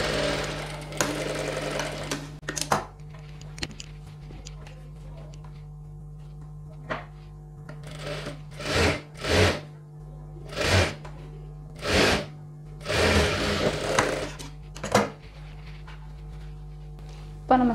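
A sewing machine stitches a single-folded sleeve hem on a chudidhar top in a series of short, close whirring bursts. Soft thumps of fabric handling fall between the bursts, over a steady hum, with no talk.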